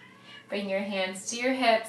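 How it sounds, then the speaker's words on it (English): A house cat meows repeatedly in the background of a yoga and pilates class, its drawn-out cries rising and falling while an instructor keeps talking over them. "You can probably hear my cat meowing in the background."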